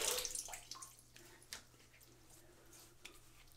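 Tap water runs briefly as a RazoRock Mamba 70 razor is rinsed after a shave, a soft close splashing with a few small drips and clicks, fading quieter after the first second.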